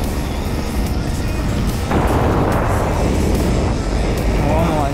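A small motorized bicycle engine of roughly 3 to 5 horsepower on a BMX accelerates with a steady buzzing drone, growing louder and rougher from about two seconds in, with wind noise over it.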